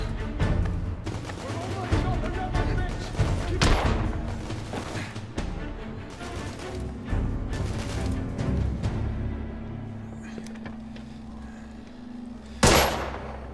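Pistol shots in The Order: 1886 come as scattered sharp cracks, with a loud nearby shot near the end, mixed with game noise and a voice talking.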